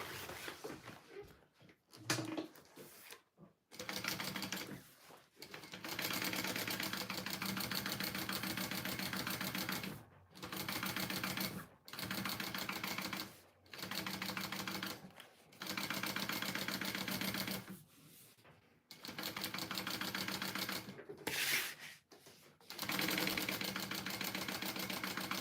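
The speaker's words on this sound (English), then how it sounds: "now I'm going to just top stitch the top of my pocket here" A sewing machine top stitches the pocket of a tote bag in repeated runs of rapid, steady stitching, each several seconds long and separated by short pauses, close and clear with no talking.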